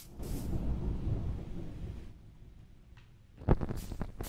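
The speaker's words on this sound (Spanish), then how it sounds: "pues está tronando fuerte allá afuera." Thunder in the video game Minecraft rolls as a deep, rumbling swell that fades into quieter rain-like hiss, followed by a sharper crack and renewed rumble near the end.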